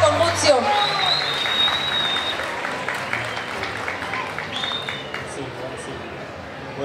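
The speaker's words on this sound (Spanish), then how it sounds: "vamos a brindarles ese aplauso muy merecido, muy fuerte con ustedes" An audience applauds an orchestra at a traditional Purépecha music contest in Caltzontzin, with steady clapping, a few whistles and crowd chatter, and a voice speaking over the start.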